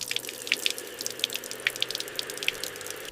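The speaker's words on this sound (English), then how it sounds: "As the balloon fills with water," Water fills a balloon in a simple physics demonstration, a steady running trickle like a tap flowing with scattered bright drips and splashes, close and moderately quiet with no voices.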